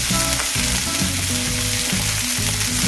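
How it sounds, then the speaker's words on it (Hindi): Fenugreek leaves (methi) fry in a pan for a restaurant-style methi malai paneer, making a loud, steady, close sizzle with a constant hiss and no voices. "मेथी को हम पहले इसलिए पका रहे हैं ताकि जो इसका कड़वापन है वो इसमें से चला जाए।"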